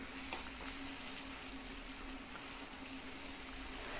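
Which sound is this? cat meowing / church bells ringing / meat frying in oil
meat frying in oil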